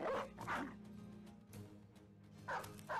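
Barking of a war dog in the video game Battle Brothers, a few loud close yaps and bow-wows at the start and again near the end, with low game ambience and faint whimpering between.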